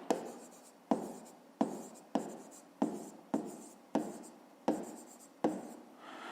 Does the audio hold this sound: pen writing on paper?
yes